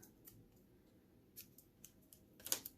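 Scissors snipping junk journal paper, a few faint, sparse crisp cuts spaced across a quiet moment, with the loudest snip near the end.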